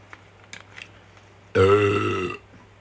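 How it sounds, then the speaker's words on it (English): A single loud, throaty burp lasting under a second comes after sips of lukewarm Sprite Zero from Burger King, set against quiet background rustles. "10 out of 10 for the burp"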